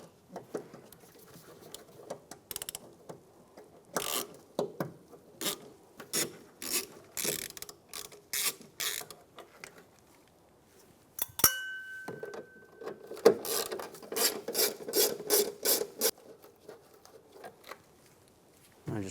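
A ratchet turns a T15 socket while a Cadillac Escalade taillight is removed, giving close, quiet bursts of rapid clicking that stop and start, with a brief louder clunk about midway.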